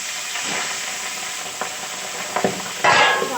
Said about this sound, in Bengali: এরপর আমি এই যে মাছগুলোকে ভেজে নেব